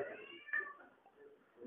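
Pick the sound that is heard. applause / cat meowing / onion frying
cat meowing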